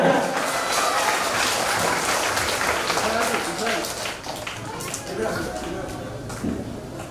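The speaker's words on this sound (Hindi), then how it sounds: "जोरदार ताली बजाएं" An audience at a school Guruparv event applauds for several seconds, a dense wash of clapping that rises and falls slightly, mixed with faint voices.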